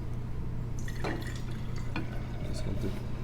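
Liquid tissue culture media is poured into lab containers, giving soft splashing and dripping with a few brief clinks of glass against a constant low background hum.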